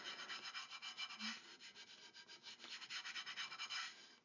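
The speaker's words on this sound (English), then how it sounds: "it's just a little bit of rubbing to get rid of those" A glazed ceramic dinner plate being rubbed to remove glaze pinholes, giving a steady, close, gritty scraping in quick repeated strokes, with no talk.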